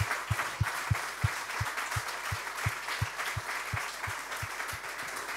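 An audience at a business leaders' conference in Pays d'Avignon applauds Serge Trigano, with steady, evenly spaced claps over a soft wash of clapping from the room.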